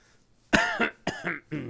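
A few harsh coughs in quick succession, close and loud, with short pauses between bursts.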